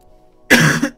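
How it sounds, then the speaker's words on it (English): A person coughs: one harsh, loud, close burst, then a brief second cough right after, with quiet before. "Sorry for the constant coughing as well."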